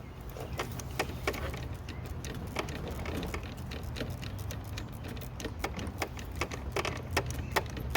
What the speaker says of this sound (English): I'm going to need a ratchet to remove that last bolt.